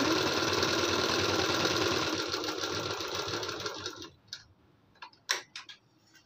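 A sewing machine stitches a blouse back neck design, a steady fast whirring rattle for about four seconds that then stops, followed by a few soft clicks and handling noises.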